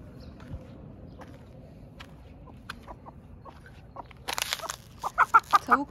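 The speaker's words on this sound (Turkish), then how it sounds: "Bu tavuk kalmış dışarıda." A chicken left outside at dusk clucks in short, soft calls that grow louder and more frequent toward the end, over a faint outdoor background.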